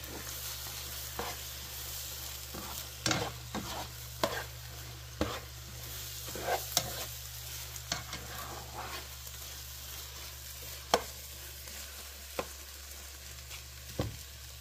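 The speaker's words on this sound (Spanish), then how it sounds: "Ya voy a revolver." Chilaca peppers and egg fry in a pan with a steady, quiet sizzle, punctuated by occasional scrapes and taps of a utensil stirring, close and without talking.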